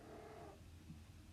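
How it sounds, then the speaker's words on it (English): Cats, including two females with kittens, vocalising softly indoors, a low purring murmur running steadily throughout with a faint chirp near the end. "I've got cats, and the two female cats I've got kittens, so they're communicating."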